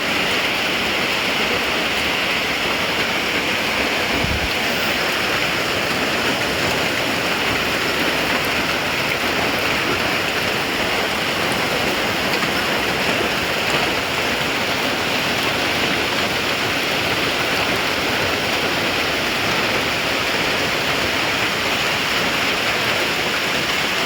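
Steady, heavy rain hisses continuously beside a chicken coop near a cattle pen, a dense wash of falling water with no voices.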